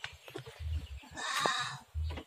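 A goat bleats once, moderately close, among rustling and shuffling barn noises.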